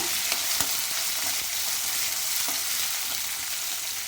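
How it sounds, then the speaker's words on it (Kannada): Onions and curry leaves fry in hot oil in a pan, a continuous bright sizzle with a few faint stirring scrapes, steady and close throughout. "ಇವಾಗ ಸ್ವಲ್ಪ ಕರಿಬೇವು ಸೊಪ್ಪು ಈರುಳ್ಳಿ ಈರುಳ್ಳಿ ಹಾಕೊಂಡಿದ್ದೀನಿ"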